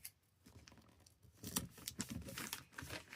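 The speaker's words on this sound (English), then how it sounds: "And just tape this nice and flat." Adhesive tape is pulled and pressed onto wrapping paper on a Christmas present, producing soft crinkling and short tearing rasps up close, quiet and intermittent.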